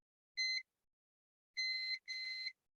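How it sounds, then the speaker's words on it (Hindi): A multimeter in continuity mode gives three electronic beeps: one short tone, then after a pause two longer beeps back to back, sharp and clear against silence, while testing a mobile phone circuit track. "पहले इसका बीप मोड पे चेक कर लेते हैं ट्रैक जो हमारा जुड़ा है या नहीं"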